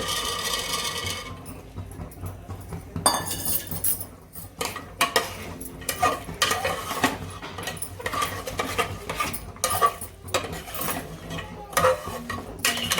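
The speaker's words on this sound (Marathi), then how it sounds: "असे चांगले पावटे परतून घ्यायचे त्याच्यामध्ये मसाल्यामध्ये" Lima beans tossed in a spiced masala with tomatoes in a pan, a busy run of metal spoon scrapes and clinks against the cookware with steady sizzling underneath, no voices.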